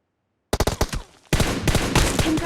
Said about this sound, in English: Swipe the screen to aim at them. Tap right fire button to shoot.